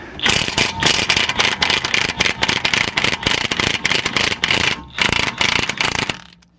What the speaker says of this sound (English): I'm just going to try and remove this nut with an impact wrench